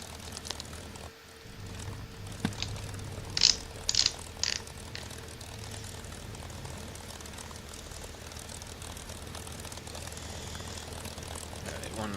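A P-51 Mustang's propeller engine drones steadily while the fighter taxis for takeoff in the DCS flight simulator, with a few brief clicks and mechanical rattles over the constant hum.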